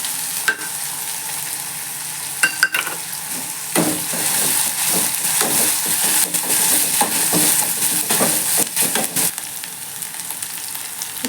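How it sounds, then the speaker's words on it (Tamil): Ginger garlic paste sizzling in a hot pan while being stirred, a loud continuous frying hiss broken by scraping and clinks of the spatula, close up with no talking. "இப்போ இஞ்சி பூண்டு விழுது சேர்க்குறேன்."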